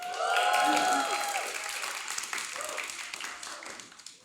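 An audience bursts into applause for Cerise at a talk, loud clapping that peaks early then slowly thins out over several seconds, with voices speaking over it.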